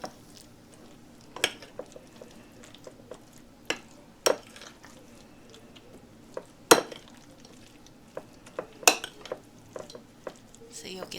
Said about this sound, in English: I'm going to fold everything together